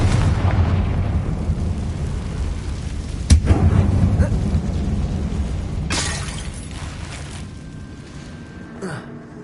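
A Confringo spell bursts in the Hogwarts Legacy video game inside an abandoned mine, giving a loud shattering explosion over a dense rumbling game soundscape, followed by another crashing burst and lingering debris noise.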